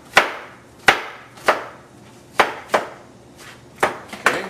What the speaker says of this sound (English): When you get towards the end, just turn it over, chop up the remaining.